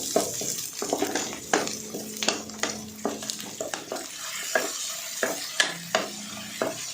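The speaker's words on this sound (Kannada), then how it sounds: "ಈರುಳ್ಳಿ ಟೊಮೊಟೊ ಎಲ್ಲ ಇದು ಚೆನ್ನಾಗಿ ಫ್ರೈ ಆಗಿದೆ." Continuous sizzling of onion and tomato frying in a pan, with frequent scraping and clacking of a spatula stirring, close and fairly loud, no talking.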